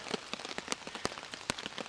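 Rain patters steadily onto a tarp outdoors at night, a dense, irregular flurry of close droplet ticks with a few sharper, louder hits scattered throughout.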